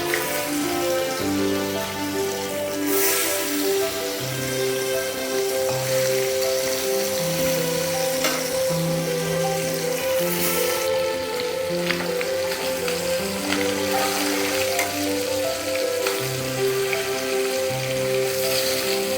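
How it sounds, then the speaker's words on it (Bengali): Fish frying in a pan of oil makes a continuous, moderately loud crackling sizzle. Steady tonal humming runs underneath it the whole time, and no voices are heard. "এখন মাছগুলি ভেজে নিচ্ছি"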